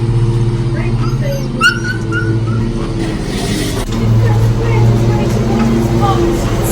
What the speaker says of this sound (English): The dog is mad.